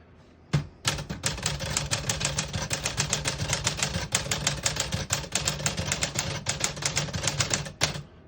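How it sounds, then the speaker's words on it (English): A 1950 Smith-Corona Sterling portable typewriter typing in red, a rapid, even run of sharp close key strikes that starts abruptly, keeps a brisk rhythm and ends with one last separate clack. "I'll type a sentence in red on the next line."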